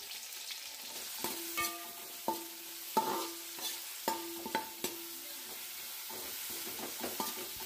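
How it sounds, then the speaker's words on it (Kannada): Green chillies and onions frying in a pan for Karnataka-style crab sukka, with a steady quiet sizzle broken by repeated clinking strokes of a spatula against the pan, close and fairly soft. "ಇದನ್ನು ಇವಾಗ ನಾವು ಚೆನ್ನಾಗಿ ಫ್ರೈ ಮಾಡ್ಕೊಳ್ಳೋಣ"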